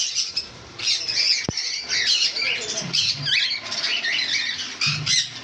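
Caged pet budgerigars and white java sparrows chatter and squawk in a busy, continuous chorus of close, shrill calls with scattered louder squawks.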